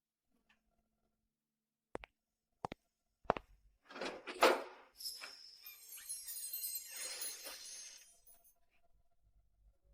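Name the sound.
door being opened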